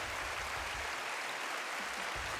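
Sustained applause from the State of the Union audience, a thick wash of many hands clapping at an even level throughout, with no lull.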